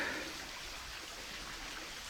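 A creek flows beneath a natural rock bridge in Yellowstone, giving a soft, steady wash of running water that stays faint and even throughout, with no voices.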